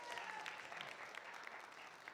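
An audience at a mayoral candidate forum applauds steadily, a continuous wash of clapping that holds at an even, moderate level from start to finish with no talk over it.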